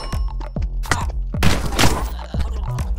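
Nail gun firing in a stickman video game, a quick series of loud, close thumping shots with a burst of crashing impact noise in the middle.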